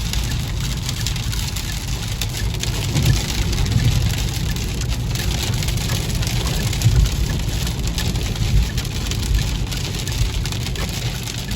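Heavy thunderstorm rain in Fort Worth drums steadily on a car as it drives along a road, a dense continuous wash with a low engine rumble beneath.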